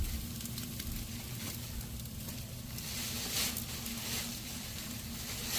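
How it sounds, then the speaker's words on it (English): Fat from an American Wagyu beef loin New York steak sizzles and crackles steadily in a hot pan, a soft continuous hiss with scattered pops. "On the Wagyu one, it has a lot more of the fat sizzling on top."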